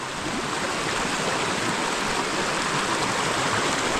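Floodwater from Mount Banahaw in Lukban, Quezon rushes as a dense, steady stream, a loud, close, continuous broadband roar of flowing water with no talk over it.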